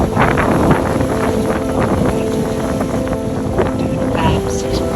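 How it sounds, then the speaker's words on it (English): A sailboat motor-sails at night on its starboard engine, wind buffeting loudly over a steady engine drone and rushing water, continuous and close, with occasional faint tonal whines. "we're motor sailing on our starboard engine"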